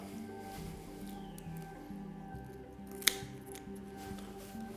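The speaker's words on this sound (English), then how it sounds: "with a nice sharp pair of scissors or a knife, just going to take that fin off underneath" A few crisp snips of scissors cutting a fin off a snapper, close up, with one sharp click standing out midway over a quiet background.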